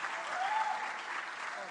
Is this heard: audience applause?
yes